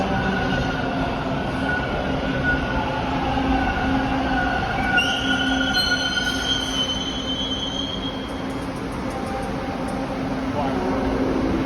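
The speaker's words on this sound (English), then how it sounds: "There's another train coming." A subway train arrives, rumbling steadily close by in a Line 2 Danforth station, with high metallic wheel squeals rising midway, under a constant roar of the station.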